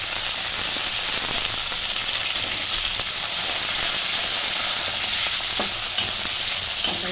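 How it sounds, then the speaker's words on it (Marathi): Onion dropped into hot oil with garlic and curry leaves, frying with a steady, loud sizzle and hiss alongside occasional stirring clatter throughout. "आता याच्यामध्ये कांदा टाकून घेतो"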